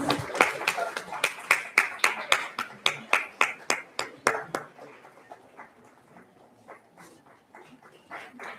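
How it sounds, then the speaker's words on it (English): Applause for the participants at the closing ceremony of a Shantideva Buddhist retreat: a few crisp, evenly spaced claps ring out for about four seconds, then thin out into faint scattered clapping. "Please give a huge round of applause for all the participants."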